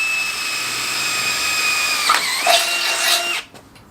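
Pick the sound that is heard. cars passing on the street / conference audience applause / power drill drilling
power drill drilling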